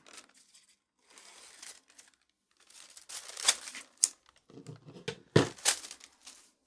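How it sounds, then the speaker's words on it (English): Paper being cut into a small section for a mixed media abstract watercolor collage, giving soft crinkling and snipping sounds in scattered bursts, louder near the end, close by with no talk. "I'm just going to cut a little section of this one."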